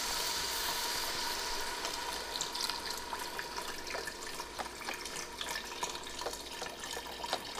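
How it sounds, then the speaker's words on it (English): Vegetable broth pours from a carton into a soup pot of leek and potato soup as a steady close splashing trickle with small drips, and no one talks over it. "So next part is you will add 32 ounces of veggie broth."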